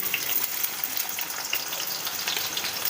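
Chopped onion sizzling in hot oil for a Godavari-style vanjaram fish curry, a steady dense crackle and hiss with no talking.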